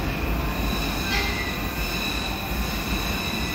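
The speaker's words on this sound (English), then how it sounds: "Here comes my tram." A tram rolls past in Cologne, Germany, with a loud, close rumble of wheels on rail and a sustained high-pitched squeal that swells briefly partway through, heard alone without speech.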